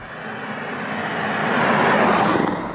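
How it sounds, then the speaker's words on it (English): A Porsche Panamera GTS with a V8 engine gives off a deep, loud rumbling roar that swells steadily louder and then eases slightly, heard close with no talking. "the first thing you notice when you start up the GTS is the deep V8 burble"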